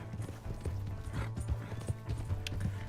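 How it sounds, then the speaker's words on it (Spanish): A horse gallops in Red Dead Redemption 2, its hooves beating out a quick, steady clip-clop close up, with faint mechanical clicks from the game mixed in. "Dale, caballo, corre bien, por Dios,"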